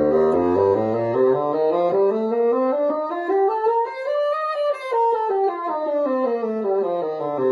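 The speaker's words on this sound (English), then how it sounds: "When you put them on the bassoon, it sounds like this." A bassoon played with a double reed sounds a slow, sustained melodic line that rises and then falls back. The tone is steady and fairly loud, heard alone with no talking.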